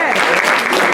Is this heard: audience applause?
yes